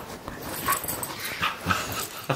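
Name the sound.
Labradoodle puppy whimpering and yipping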